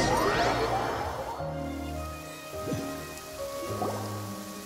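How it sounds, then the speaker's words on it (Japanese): Steady rain falling in Genshin Impact, a continuous wash of drops with a few scattered splashes, joined partway through by low sustained tones and brief musical flourishes. "ここ数日ずっと雨が止んでないもんね"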